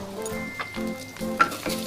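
Ghee goes into leftover rice in a pot while making khichuri. A close, continuous sizzle is heard, with a low tonal hum and a few soft stirring scrapes.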